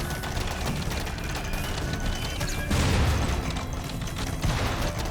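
Turrets in a RimWorld colony defense rattle out continuous rapid gunfire during a raid, a dense, loud barrage of shots and crashes that swells into heavier impacts midway.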